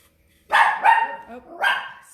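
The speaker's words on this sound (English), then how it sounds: "Oh, sorry about the dog." A dog indoors, heard in a workshop setting during a craft session, gives two quick loud barks and then a third, close and sharp, with no talking.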